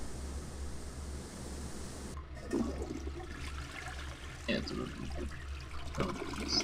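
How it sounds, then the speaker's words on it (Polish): Toilet flush in the Larry 7 video game, a gushing watery rush that starts abruptly after a quiet hum and runs on with trickling, uneven bursts to the end. "To będzie odcinek o spuszczaniu wody."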